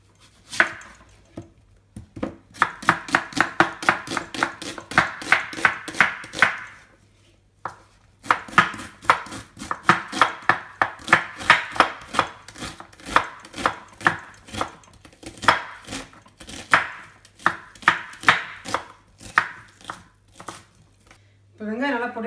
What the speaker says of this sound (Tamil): அதுக்கு ஆனியன் ஃபஸ்ட் கட் பண்ணிக்கலாம்.